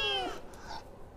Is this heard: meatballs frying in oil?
no